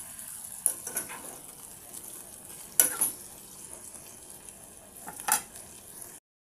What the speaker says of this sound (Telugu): ఇప్పుడు దీన్నంతా ఒకసారి బాగా కలబెట్టేసి టమోటా అనేది మగ్గేంత వరకు ఉడికించుకోండి